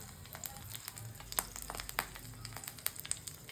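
Garlic and curry leaves frying in hot oil for a pomfret fry, a faint steady sizzle with scattered small pops and crackles, close but quiet and without talk.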